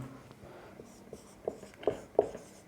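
Writing on a classroom board during a physics lesson on thermodynamics: soft scraping strokes build into a few sharper taps and scratches, close by and fairly faint.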